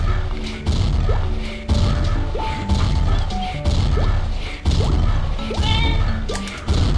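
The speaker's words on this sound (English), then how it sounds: "Explosion!" Explosions go off in the Magicats Builder video game: a rapid series of sharp, crashing bursts about once a second, mixed with short whooshing and ringing effects.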